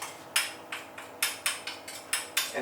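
A small metal spoon scraping stuck jam setter off another spoon in a home kitchen, heard as a string of sharp, close, evenly spaced scraping clicks, about seven strokes in quick rhythm with no talking.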